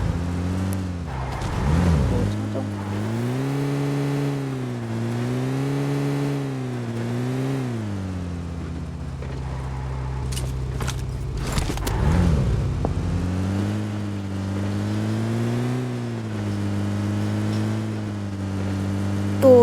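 A car driven in a battle royale video game, its engine droning steadily and rising and falling in pitch as it accelerates and shifts, loud and continuous with no talk.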